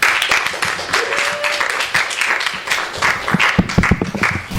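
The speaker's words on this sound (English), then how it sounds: "Let's please give her a warm round of applause." An audience at a bookstore reading claps for a debut author, a thinner, uneven patter of hands with individual claps standing out, moderately close.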